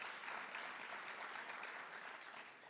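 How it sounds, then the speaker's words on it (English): Audience at a Hollywood community excellence awards ceremony claps for a co-lead author, a soft, continuous patter of many hands heard from a distance, steady and gradually fading. "give him a round of applause as well"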